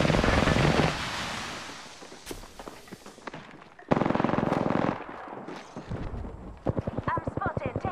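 Bursts of automatic gunfire and single shots in Apex Legends, loud and close at first then trading off with footsteps and game effects, with players talking over the action.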